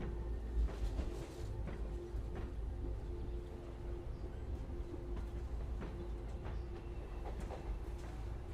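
A train ride in the video game Syberia: The World Before gives a steady, low rolling rumble with occasional soft rhythmic clacks of wheels on track.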